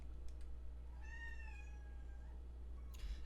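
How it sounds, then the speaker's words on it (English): A cat meows once, a clear drawn-out call lasting about a second and a half, heard from somewhat off to the side over a steady low hum in a quiet room. "And once the kitty stops meowing, Michael gets the win."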